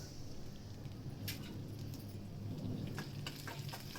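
Garlic and curry leaves frying in hot oil with mustard seeds and cumin, a faint steady crackling sizzle with a few sharper pops, quiet and distant.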